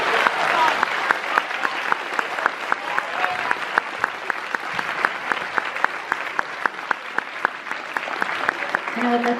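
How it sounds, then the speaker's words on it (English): A school theatre audience at a Guys and Dolls Jr. performance claps for the student sound crew, giving sustained, dense applause of many hands that stays loud throughout. "So I'd like to give them a round of applause also."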